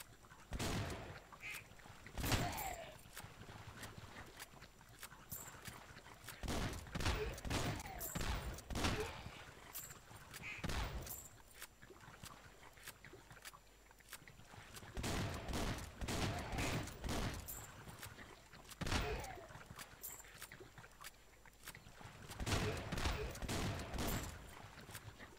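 Repeated cartoonish gunshots in the Swamp Attack game as beavers advance, sharp bursts scattered in clusters over about 25 seconds with goose-like honks and game effects in between.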